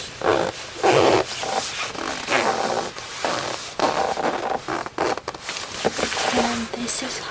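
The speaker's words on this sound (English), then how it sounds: "this has two-way zipper" A two-way zipper on a Columbia Lake 22 long down jacket slides in repeated bursts of close zipping and fabric rustle, broken by short pauses.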